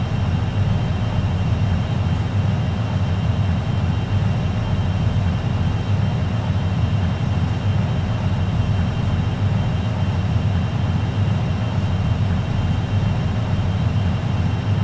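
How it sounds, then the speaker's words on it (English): Video-game NF-104 Starfighter jet engine at maximum afterburner, a loud continuous roar with heavy low rumble and steady hiss, unbroken for the whole stretch. "Okay, and maximum afterburner."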